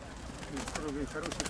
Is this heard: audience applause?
no